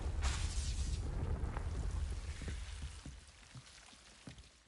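A Confringo blasting spell explodes in Hogwarts Legacy, a broad rumbling burst that opens loud and decays over several seconds with scattered crackling debris, ending in a sharp new hit.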